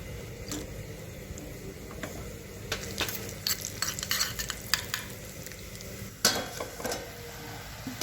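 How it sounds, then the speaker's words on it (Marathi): Cashews and almonds fry in ghee in a small tadka ladle, a close crackling sizzle punctuated by metallic stirring clinks and scrapes, louder bursts toward the end. "तडका पळीमध्ये मी टाकणार आहे तूप थोडस आणि त्याच्यामध्ये काजू बदाम फ्राय करून घेणार आहे"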